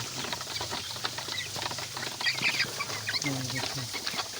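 Young broiler chicks about twenty to twenty-five days old, kept at home, make a busy chorus of soft clucks and peeping chirps close by, overlapping continuously with faint background noise.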